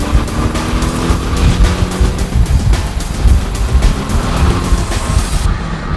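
A Porsche 718 Boxster GTS in Sport mode gives a loud, steady engine roar close by, with shifts in pitch as it moves through gear changes. No one speaks.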